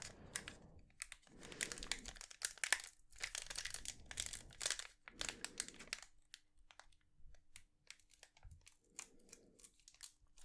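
A Pokémon Chilling Reign Ice Rider Calyrex V card box is opened carefully up close, with quiet bursts of crinkling plastic and tearing packaging separated by brief pauses and soft taps.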